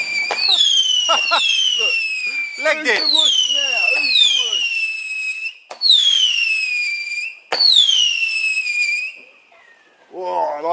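Loud whistling fireworks shriek one after another on a fireworks night, each tone sliding downward and ending in sharp bursts. A brief voice speaks near the end.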